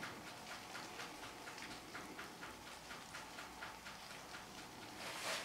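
Steady rain falls outdoors with water dripping, a soft continuous hiss carrying faint, evenly spaced drips, quiet and alone without voices.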